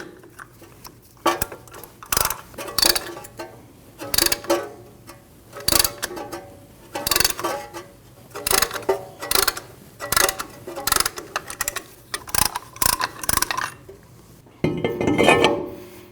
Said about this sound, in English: Now you want to push both of your pistons back into their cups by using a tool